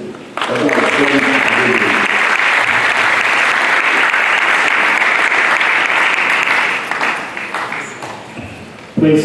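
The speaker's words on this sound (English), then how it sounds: "if you enjoyed the Vice Chancellor's remarks, can you please give him a round of applause?" An audience at a GASDI conference applauds the Vice Chancellor's remarks with loud, dense, sustained clapping that starts abruptly and holds steady, then tapers off near the end as a voice returns briefly.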